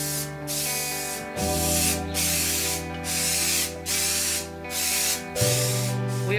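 A sunflower stem is spray-painted green in short, regular hissing bursts, close and loud, over a steady low tonal hum in the background.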